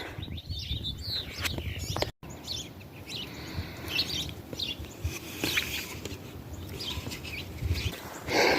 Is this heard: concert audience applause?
no